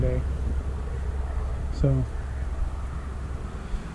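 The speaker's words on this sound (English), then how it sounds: "it's pretty windy down here today" Wind blows steadily outdoors by the Deschutes River, a constant low rumble and rush buffeting the microphone, with a brief voice cutting in midway.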